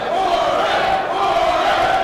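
Crowd at a PWA wrestling match in Kitchener, a barbed-wire-ropes bout, yelling and cheering in a sustained loud roar of many voices.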